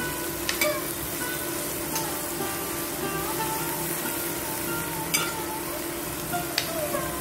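Chopped onion sizzles steadily in a hot pan for a Maharashtrian snake gourd and val bean dish, with a few sharp scraping clicks from a spatula stirring it. Close and fairly quiet, with no talking.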